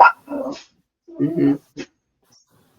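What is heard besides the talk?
dog barking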